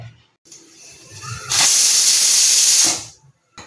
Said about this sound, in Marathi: एक शिट्टी झाली की आपला भात तयार